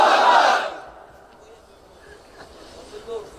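A large gathering at a Bengali religious sermon roars back in unison to a call for takbir. The loud collective shout lasts about half a second and then fades into quiet murmuring.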